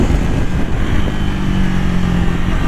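Loud, steady engine roar of a Triumph Thruxton 400 motorcycle being ridden, heard up close with strong wind rush and no speech.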